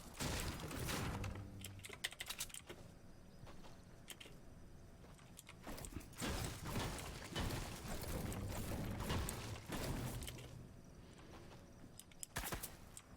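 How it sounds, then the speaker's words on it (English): Gunfire in the Fortnite video game crackles in rapid, dense bursts over a steady backdrop of game noise, swelling and fading in repeated volleys throughout without any talking. "Somebody shooting at me?"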